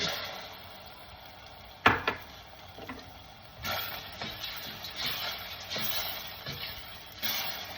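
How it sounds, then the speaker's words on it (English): White wine poured into a hot pan of rice with clams, a sharp clink followed by a steady, fairly quiet sizzling hiss that swells in waves with a few soft knocks. "Now at this point, I'm going to add the white wine."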